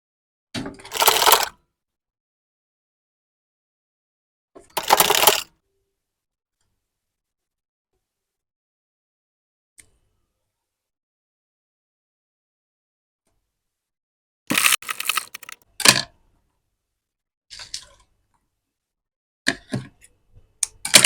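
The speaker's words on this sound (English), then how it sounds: "Now I'm going to sew the second half." Sewing machine stitching the seam of a princess dart bustier flare gown, running in short separate bursts of rapid mechanical ticking with long silent pauses between, fairly close and clear.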